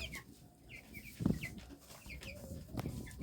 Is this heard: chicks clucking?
yes